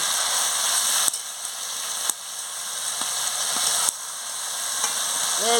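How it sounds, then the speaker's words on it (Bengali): Goat meat with spices sautés in a pan, a dense, continuous hiss of frying with a few abrupt knocks and scrapes of stirring, close and steady throughout. "মশলা সঙ্গে মাংসটা দিয়ে ভালো করে নাড়িয়ে নিচ্ছি ও ভালো করে কষিয়ে নিচ্ছি"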